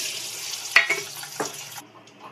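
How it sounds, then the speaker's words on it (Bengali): Eggs frying in hot oil for chicken biryani, a dense hiss with a few pops and stirring scrapes that drops away sharply near the end. "এবার ডিমগুলো ভেজে নেবো তেলে"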